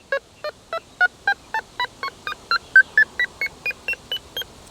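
A ROC XRS alarm control panel sounds its detector tone as a steady run of about eighteen short, evenly spaced electronic beeps whose pitch shifts slightly across the series, clear and alone.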